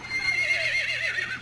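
Horse whinny from the video game Battlefield 1, a wavering neigh that rises and falls over a steady game backdrop, fairly close and lasting about a second and a half with no talk.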